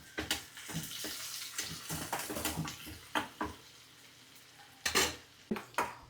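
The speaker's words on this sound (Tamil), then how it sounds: "வெங்காயம் நன்றாக பொன்னிறமாக வதங்கியதும் இந்த கறிவேப்பிலை போடவும்" Onions sautéing until golden in a pan for a dried anchovy curry with drumsticks and brinjal, heard as a soft sizzle broken by repeated scrapes and knocks of a spatula stirring.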